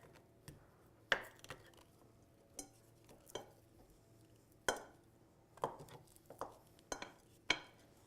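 A spatula breaks up softened cream cheese in a bowl, making scattered soft scrapes and light taps on the bowl, about a dozen irregular strokes against quiet background hum.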